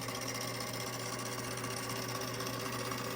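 A 1935 Singer Featherweight 221 portable sewing machine runs with a steady, even mechanical whir and a fast needle chatter, close and constant throughout, with no talking.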